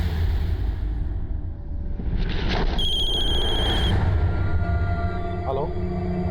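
A telephone rings with a bright electronic trill partway through, heard over steady background noise in a crime drama scene.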